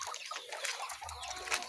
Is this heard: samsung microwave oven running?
no